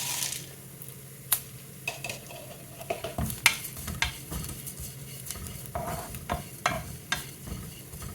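Dried coriander seeds roasting with coconut in a pan over low flame, stirred with a spatula: a soft steady sizzle broken by a dozen or so sharp scrapes and taps of the utensil against the pan, close and fairly quiet.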